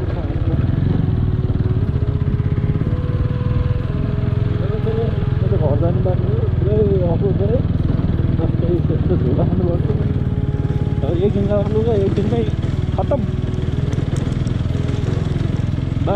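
A motorbike rides over a dusty, rough, unpaved road in Nepal, its engine droning steadily and loudly close up throughout, with rattles and bumps breaking through and a voice talking over it.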